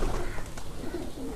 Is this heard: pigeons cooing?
yes